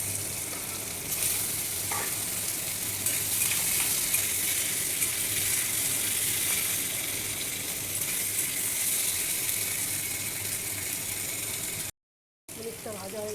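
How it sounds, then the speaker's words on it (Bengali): Paneer pieces frying in hot oil in a wok for restaurant-style chilli paneer, a steady broad sizzle, close and even, with faint stirring clicks and one short silent gap near the end. "পনিরটা ভেজে নেব।"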